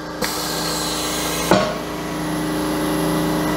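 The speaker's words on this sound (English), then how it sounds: "And then open the clamp." Clamp of a Morgan plastic injection press opening in a workshop, two sharp metallic clunks about a second apart, the second louder, over a steady machine hum.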